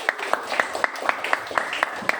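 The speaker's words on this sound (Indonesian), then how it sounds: "kasih tepuk tangan buat Bila juga." A small group claps in a classroom after a pupil's answer, a thin, regular run of separate claps close by with light voices underneath.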